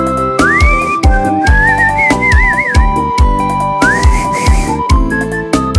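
A person whistles a melody along with a Brazilian seresta song playing loudly, the clear whistled line rising and wavering over a steady beat and backing instruments.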